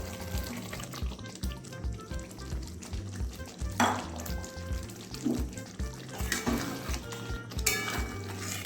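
Boiled eggs sizzle in hot oil and spice masala for egg curry, with steady frying crackle and occasional stirring scrapes in the pan, fairly quiet overall.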